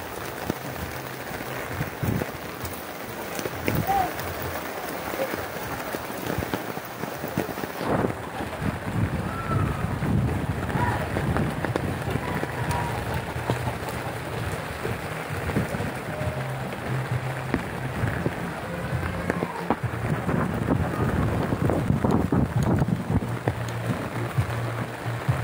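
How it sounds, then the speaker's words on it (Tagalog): Heavy rain and gusting wind outdoors in the Philippines, a dense continuous roar with wind buffeting the microphone, steady and loud throughout with no talk. "May panay ulan"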